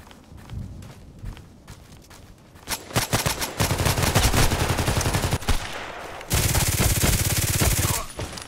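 A close-range firefight in the shooter game Contract Wars: a few scattered shots and steps give way to sustained rapid automatic fire, then a brief lull and another loud, dense burst before it cuts off.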